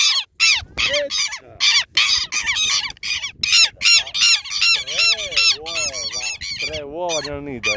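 Southern lapwing, or quero-quero, calling while defending its nest, with repeated loud, harsh, squawking cries in rapid bursts, close by, with a person talking at times.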